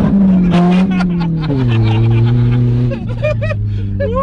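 A car engine running on brake fluid in place of motor oil revs loudly up close, its droning pitch stepping down and rising again in sustained surges with no pauses.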